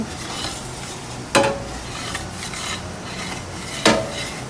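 A spoon stirs flour into melted butter for a roux in a pan for seafood chowder, giving a soft continuous rasping sizzle with two sharper scrapes; close and steady, with no voices.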